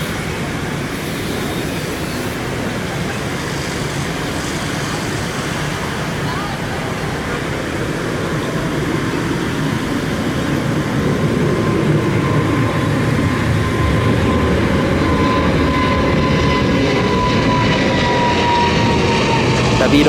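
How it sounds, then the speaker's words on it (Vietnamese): An airliner taking off in heavy rain, its engines a steady broad roar that swells and builds over about twenty seconds while water spray hisses. "bây giờ mời mọi người chiêm ngưỡng pha cất cánh của chiếc máy bay này"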